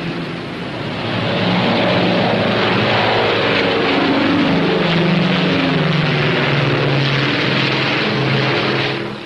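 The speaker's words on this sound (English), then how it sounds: "Yes, the P-61A takes off like a homesick angel." A P-61A Black Widow fighter aircraft takes off with a loud, steady engine and propeller roar that rises after the first second and holds close and strong to the end, with no talk over it.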